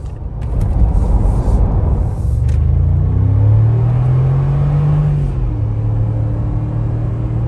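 A 2022 Mercedes GLE350 4Matic SUV engine rumbles and then climbs steadily in pitch during a hard 0 to 60 run, heard from inside the cabin, before the revs ease off.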